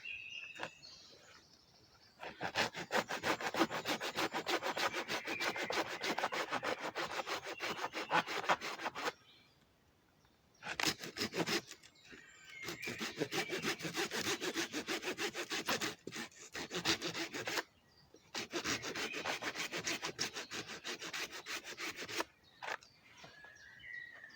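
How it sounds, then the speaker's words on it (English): A handsaw cuts stop cuts into a wet wood log in three long bursts of steady, rasping back-and-forth strokes, close and loud, separated by brief pauses. "The trouble with wet wood, you saw, has a tendency to bind"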